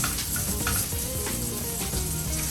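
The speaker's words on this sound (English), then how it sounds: "Just go ahead and let this fat go ahead and render on down so we get a nice crisp skin on it" Duck breast skin-side down in a hot pan as the fat renders, giving a loud, steady, crackling sizzle that runs unbroken throughout with small pops and spatters.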